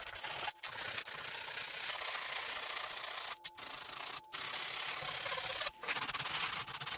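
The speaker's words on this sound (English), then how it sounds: "So I stop sanding when I get a smooth surface." Continuous rapid rubbing of sandpaper on a hard 3D-printed plastic part, close and steady, with a few brief pauses between strokes.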